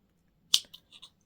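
Scissors snip crochet thread on a small heart-shaped crocheted doily, one sharp close cut followed by a few light clicks and rustles, otherwise quiet.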